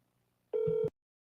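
A telephone emits one short steady electronic tone after dialing out, lasting under half a second, clear and close, with silence on both sides.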